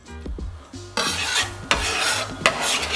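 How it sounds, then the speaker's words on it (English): Cherry tomatoes land in a hot pan with canned tuna, a sudden broad sizzle after a few soft clinks, followed by scraping stirs and repeated utensil knocks against the pan. "Now, our cherry tomatoes go straight in."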